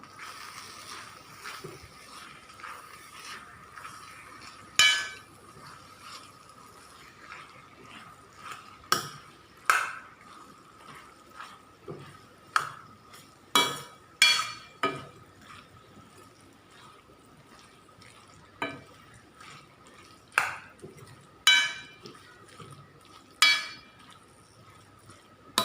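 Ladyfinger (okra) vegetables being stirred in a pan, a quiet bed of sizzling punctuated by a dozen sharp, irregular scrapes and clinks of the spoon against the metal.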